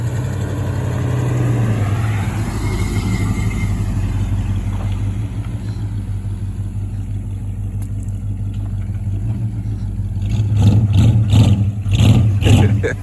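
A car engine revs hard and holds at high pitch while the brake is held down in an attempted burnout. The loud, steady drone swells and eases, with voices talking over it near the end.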